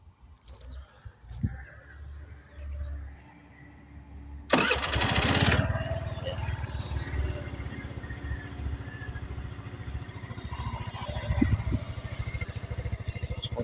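A RUSI Sparkle 125fi fuel-injected scooter cranks with a sharp starter burst, then its small engine settles into a steady, close idle with light revving, after quiet handling noises.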